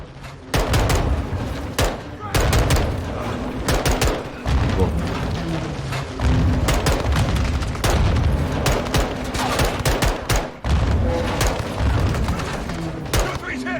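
Loud, sustained gunfire with rapid bursts and heavy booms from the video game Call of Duty: Modern Warfare 2, dense and nearly continuous, with only a few brief gaps.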